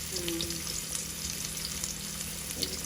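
Bitter gourd and fish fry in hot oil on a stove, a steady close sizzle that holds unbroken throughout.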